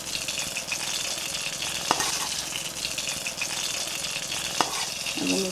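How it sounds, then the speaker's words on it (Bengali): Fried fish pieces go one at a time into a hot pan of oil, giving a steady, moderately loud sizzle with a couple of sharp clinks as pieces are dropped in. "ভাজা মাছগুলো এখন আমরা দিয়ে দেবো একে একে।"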